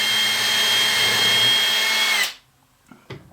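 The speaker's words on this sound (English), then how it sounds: "we're going to drill a pilot hole" A power drill bores a pilot hole into wood while a small table saw sled is built, whirring loudly and steadily for about two seconds before spinning down, followed by a couple of faint knocks.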